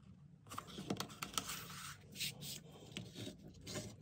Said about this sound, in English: So the first thing we do is we fold it in half.